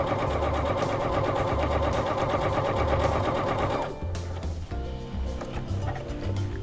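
A sewing machine stitches fabric in a fast, steady mechanical run of rapid needle beats, then stops and gives a few short bursts, close and clear.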